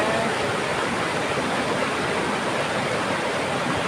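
A waterfall in a Thai national park roars in a steady, unbroken rush of water, loud and continuous throughout.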